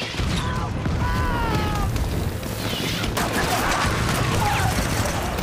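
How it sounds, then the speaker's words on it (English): War-drama gunfire from the Pacific-war battle across Peleliu airfield: dense fusillades of rifle and machine-gun shots with booms and shouting voices, loud and continuous throughout. "You can hear the bullets, man."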